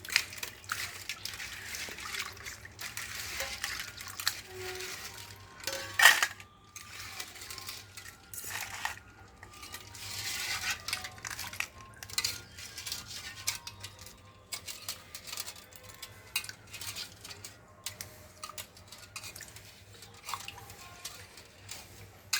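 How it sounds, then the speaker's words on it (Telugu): Crabs are washed by hand in water, with faint sloshing, trickling and the occasional clack of shells against a container. "రెండు మూడు సార్లు నీళ్లు మారుస్తూ కడగ కడగాలండి"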